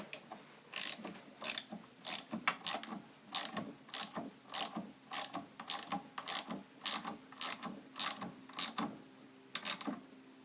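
A wrench ratchets while tightening a part on a Lucas pump during reassembly after a shaft leak, sharp close clicking bursts repeating in an uneven rhythm throughout, with no talking.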